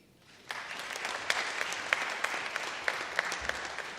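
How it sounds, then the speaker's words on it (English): An audience at a sponsor launch in a library breaks into applause after brief near-silence, settling into steady clapping of moderate loudness with distinct individual claps standing out. "Big round of applause."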